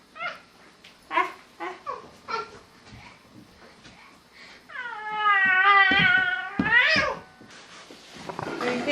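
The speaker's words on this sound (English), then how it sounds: "That's a kitty cat, huh?" A cat meows in a long, rising and wavering cry near the middle, after a few shorter soft sounds, with a small child's babble and an adult's voice nearby.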